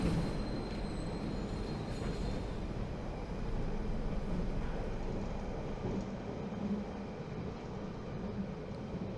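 A subway train rolls along in a continuous low rumble and rattle, loud and close, holding steady from start to end with no voices.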